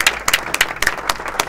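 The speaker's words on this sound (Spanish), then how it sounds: "Este aplauso es para vos." Applause in a radio studio at the end of a live program, a short burst of several people clapping nearby with irregular sharp claps and no talk.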